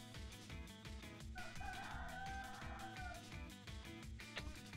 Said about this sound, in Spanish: Se le oye, se le oye. Cago en el puto gallo de mierda